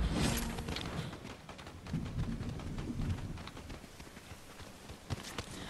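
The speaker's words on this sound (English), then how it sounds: "The storm." Rain and rolling thunder from a storm, a dense continuous wash of rainfall with low rumbles swelling throughout, loud and close, with no voices.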